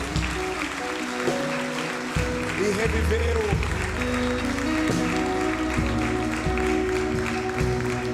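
A congregation at a church service claps steadily under a voice talking over it, with music and tones sustained throughout.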